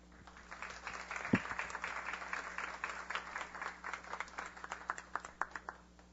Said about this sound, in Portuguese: Vamos recebê-lo com um aplauso de boas-vindas.